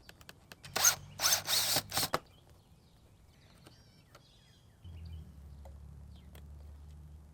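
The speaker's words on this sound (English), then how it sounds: "you drill a hole through it" Power drill boring a hole to mount a fender eliminator bracket on a 2023 Yamaha R7, in several loud whirring bursts close by, followed by quieter low hum and faint clicks.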